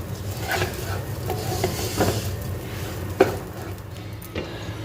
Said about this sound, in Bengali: এখন আমি চালটা ভালো করে ভেজে নিচ্ছি।